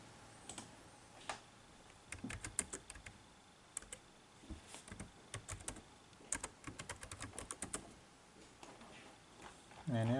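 Keys clatter on a computer keyboard as commands go into the MATLAB command window, in irregular quick bursts of soft clicks with gaps between, and a voice starts speaking at the very end.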